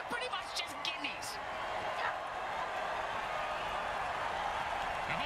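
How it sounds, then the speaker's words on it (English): A stadium crowd reacts in a football video game, a steady murmur of many voices running throughout, with a few brief sharp thumps and bursts near the start. "The home crowd isn't impressed with that showing"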